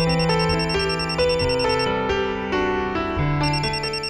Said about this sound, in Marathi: मला फोन आला